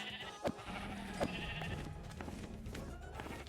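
Sheep in the Minecraft video game bleat several times at a moderate distance, short clipped calls over quiet background game noise with a few soft thumps.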